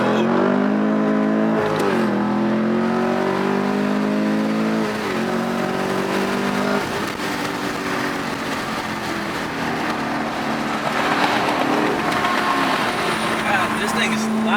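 A Chevrolet Camaro with an MBRP cat-back exhaust makes a hard first-gear pull from about 30, its loud engine note rising steadily throughout, with brief dips where the revs drop and climb again.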